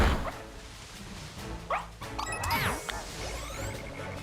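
Fidough, a small dog Pokémon in Pokemon Scarlet, gives a short cluster of yippy, pitch-bending barks midway through, set against steady game music and ambient background sound.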